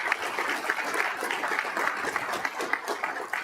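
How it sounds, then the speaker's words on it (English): A ceremony audience claps together at an aviation scholarship event, a dense, steady round of applause from many hands lasting throughout without pause. "And why all the clapping?"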